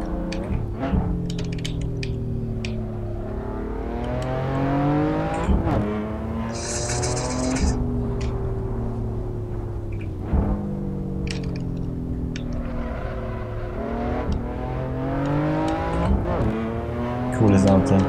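A race car on the Nordschleife in Assetto Corsa, engine revving up and down through repeated gear changes with occasional tire squeal, while someone talks over it.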